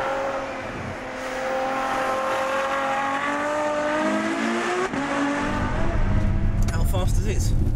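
The V12 engine of a Ferrari F12 Berlinetta revs hard and climbs steadily in pitch, loud and close, before the tone breaks into a rougher, fuller roar near the end.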